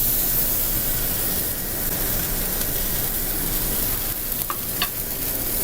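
Butter-coated dry-aged yellowfin tuna searing in a hot pan, a loud, continuous sizzle that holds steady throughout, with a couple of faint clicks near the end.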